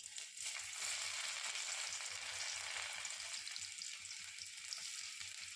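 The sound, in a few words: chopped garlic sizzling in mustard oil in a wok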